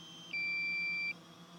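DJI Phantom 3 drone low-battery warning, a single clear high-pitched steady beep lasting under a second, close and alone over quiet background hum.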